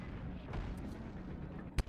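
A single sharp tank cannon blast from an M103 in a video game cracks out near the end, over a low, steady rumbling background.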